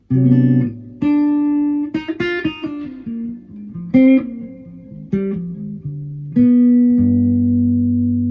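Clean jazz guitar plays a run of single notes and tense altered dominant chords alone, drawn from the melodic minor scale, with short pauses and a few sustained final tones.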